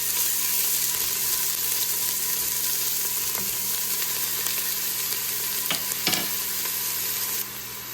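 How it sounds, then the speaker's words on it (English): Onions sautéing over medium heat in a pan, a steady low sizzle that carries on throughout, with a couple of brief clinks and scrapes of stirring near the end. "I'm going to add first my onions and saute them"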